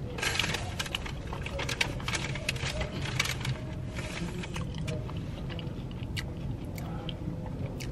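Close, steady crunching of shrimp deviled eggs being chewed, with repeated crisp bites over a busy background hum for the whole stretch.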